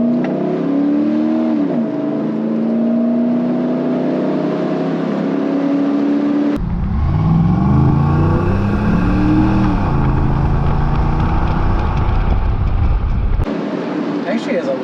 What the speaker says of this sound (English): it has actually a pretty deep, throaty exhaust note